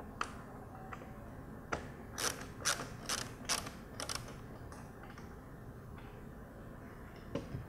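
Phillips screws being backed out of the reflector housing of a 2013-2014 Ford Mustang headlight, quiet close ratcheting clicks in short irregular bursts against a faint background hum.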